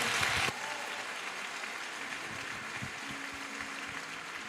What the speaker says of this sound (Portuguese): Aplaude bem forte a Ele.